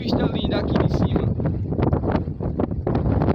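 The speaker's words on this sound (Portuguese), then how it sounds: "É o vento." Strong wind blows across a hilltop at Pedra do Embola Gato, loud and gusty, buffeting the microphone with continuous roaring and rumbling.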